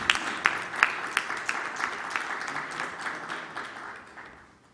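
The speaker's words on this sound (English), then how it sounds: "A huge round of applause, please" Audience at an e-governance conference session applauds a memento presentation, with a few sharp, distinct claps standing out early, then the clapping gradually fading toward the end.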